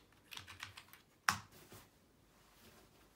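A wireless keyboard used with a MacBook Pro is typed on in a short run of soft, close key taps, ending with one sharper, louder keystroke and then quiet.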